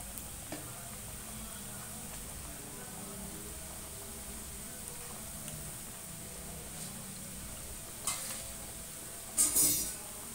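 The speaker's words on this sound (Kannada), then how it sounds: "ನೋಡಿ ಇವಾಗ ಒಂದೊಂದೇ ನಾವು ಎಣ್ಣೆಗೆ ಹಾಕ್ಕೊಳ್ಳೋಣ, ಫ್ರೈ ಮಾಡ್ಕೊಳ್ಳೋಣ." Kachori deep frying in hot oil, a steady low sizzle throughout, with a couple of brief utensil clinks near the end.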